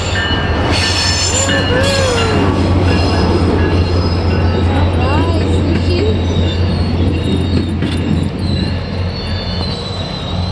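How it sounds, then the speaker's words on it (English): A train rumbles past nearby, wheels squealing in high rising and falling tones over a steady clattering roar. "another train is coming"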